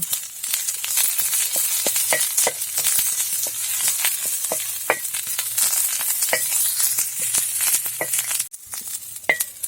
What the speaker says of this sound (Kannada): ಕರಿಬೇವಿನ ಸೊಪ್ಪು ಅದಕ್ಕೆ ಹಾಕ್ತಿದ್ದೀನಿ. ಅದು ಸಹ ಫ್ರೈ ಮಾಡಬೇಕು.